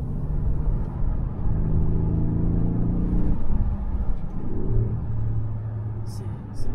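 Deep, rumbling engine note of a Mercedes GLC 63 AMG SUV revving and pulling through the gears, heard from inside the cabin with someone talking over it.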